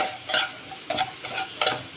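Onions sauté in a pan with a soft, steady sizzle as a spoon stirs and scrapes in three quick, even strokes.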